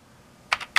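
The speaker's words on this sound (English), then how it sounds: "So I'm going to put in a line 40 and type end" Three quick keystrokes on the keyboard of a Briel Replica I Apple I clone computer, close and crisp, clustered in the last third after a quiet pause, with no talking.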